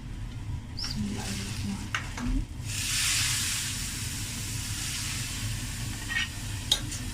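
Hot oil tempering poured into masoor dal bursts into loud sizzling and hissing that settles into a steady crackle, with a few clinks of utensils.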